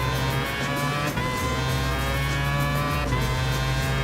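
A Mazda 787B race car in Gran Turismo Sport holds a loud, steady engine drone rich in layered harmonics, with slight pitch shifts as it runs at speed; no voices.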